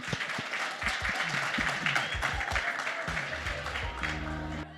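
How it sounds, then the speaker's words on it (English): Audience at a Sasol TechnoX 2023 session clapping to welcome the next speaker: broad sustained applause from a crowd with some sharper individual claps and faint low voices, easing off at the end. "A round of applause for Fezile Dhlamini."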